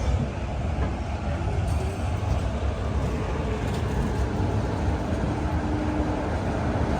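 Steady low rumble and hiss of an express train at Tirunelveli Junction station, a continuous broadband roar close by with faint metallic squeals and clanks running through it.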